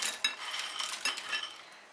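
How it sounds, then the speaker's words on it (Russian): A salad of beans and croutons dressed with mayonnaise is stirred in a dish with cutlery, giving soft, close scraping and light clinks in a continuous motion. "Хорошо перемешиваем."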